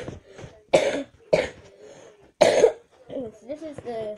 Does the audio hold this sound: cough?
yes